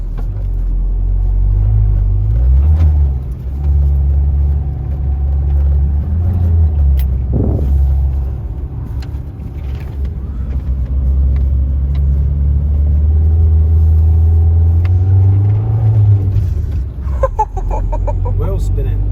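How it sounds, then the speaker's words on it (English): Car wheels spinning on a rural road with tractor tracks, a loud, steady low engine rumble and churning drone holding throughout, rising briefly near the end, with people talking over it. "Wheel spinning."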